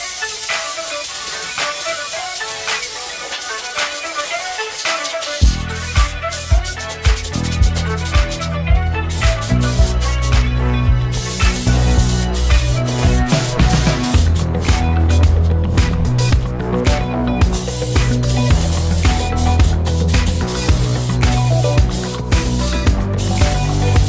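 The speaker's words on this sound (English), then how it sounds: "Use the air compressor, nice low setting" An air compressor blows a continuous, loud hissing spray on a low setting to clear glue off a Mazda RX7 dash being flocked, with intermittent clicks and pops over the steady rush.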